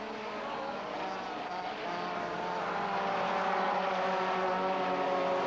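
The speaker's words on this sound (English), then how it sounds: "These cars developed some 270 brake horsepower, and just notice how quickly they close in on the Stannic Group N Class A cars" Supertouring race cars of about 270 brake horsepower lapping Killarney circuit in 1993, engines droning steadily and swelling louder as the pack draws nearer, with no talk over it.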